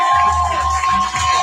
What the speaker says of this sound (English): Ladies and gentlemen, clap it up